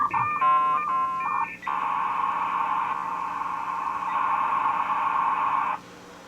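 Dial-up modem handshake on a 1996 telehealth link: warbling tones and beeps at first, then a loud steady hissing carrier screech that holds for several seconds before cutting off abruptly.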